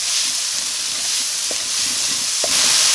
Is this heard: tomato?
yes